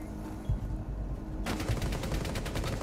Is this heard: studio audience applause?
no